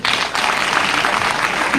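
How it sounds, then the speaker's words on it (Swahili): A crowd claps together at a school education awards event in Gatundu, Kenya, a brief, loud, continuous burst of many hands applauding. "Wapigeni makofi."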